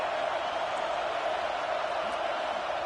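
Football stadium crowd at a Gators versus Oregon game, a dense, steady roar of many voices holding at a constant level throughout, heard from a distance with no distinct individual calls.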